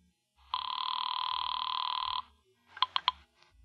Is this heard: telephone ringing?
yes